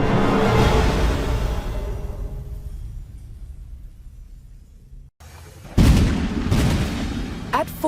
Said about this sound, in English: At Formigny, the roar of cannon fire sounded the death knell for England's ambitions in France.